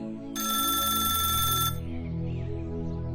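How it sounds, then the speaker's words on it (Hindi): Desk telephone in a village police station rings with a loud electronic trill for about a second and a half, then stops, leaving music playing underneath. "तभी दरोगा कमलनाथ के टेबल पर फोन बजता है"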